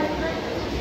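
Inside a local train near Patna in Bihar, on the East Central Railway, a steady, loud rolling rumble fills the carriage while voices talk over it.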